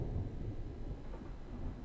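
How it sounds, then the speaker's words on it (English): Low, steady rumble of a thunderstorm in the survival game Smalland: Survive the Wilds, a continuous dense roll with faint rain texture and no distinct claps. "Storm approaches. Seek shelter."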